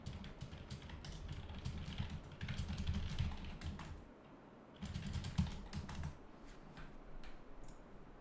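Rapid typing on a computer keyboard, close and steady, with brisk clusters of key clicks over a low hum, a brief lull near the middle before the tapping resumes.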